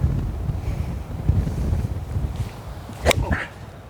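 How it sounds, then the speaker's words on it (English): Gusty wind buffeting outdoors on a golf practice ground, a steady low rushing roar across the microphone with a brief sharp knock near the end. "This wind is blowing all the seeds around."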